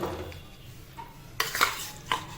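Chicken stirred with ghee in a hot kadai for biryani, quiet sizzle at first, then clattering metal spoon scrapes and knocks against the pan in a few bursts, no talking.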